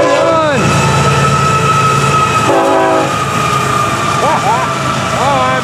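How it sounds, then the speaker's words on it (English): Florida East Coast freight train 101 rolls past at night with auto racks near the head end, its loud multi-tone horn sounding in several blasts over the rumble and clatter of passing rail cars. "Take a look at FEC's 101. It's the hot train for Wednesday night,"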